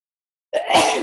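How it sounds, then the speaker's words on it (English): A single sharp sneeze bursts out after a moment of silence, close and fairly loud. "excuse me, I had to sneeze."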